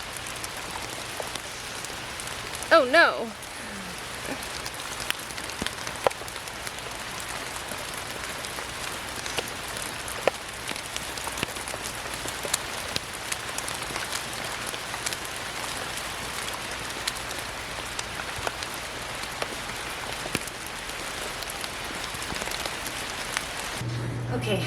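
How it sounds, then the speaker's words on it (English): Rain pouring down on a garden, a dense continuous hiss of drops with scattered sharper patters throughout. It stays steady and close for the whole stretch, and a person briefly speaks near the start. "that sprinkles turn into rain"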